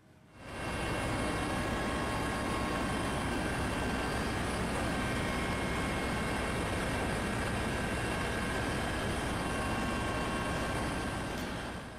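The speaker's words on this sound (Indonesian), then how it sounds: "Anda akan melihat suasana dari udara saat helikopter Basarnas menyisir perairan Selat Bali." A Basarnas search and rescue helicopter flies over the Bali Strait, its engine and rotor roar heard from on board as a loud, constant drone that swells in at the start and holds steady throughout.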